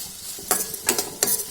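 A tempering with curry leaves and a dry red chilli being stirred in a pan, three sharp metallic scrapes spaced about a third of a second apart over a faint background sizzle.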